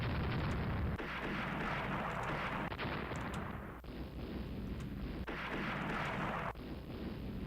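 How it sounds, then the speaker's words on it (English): A warship's main battery guns fire and hit in an Austria-Hungary naval video game, heavy rumbling blasts rolling in a few broad waves, loud and alone without talk. "That was a main gun, or main battery hit."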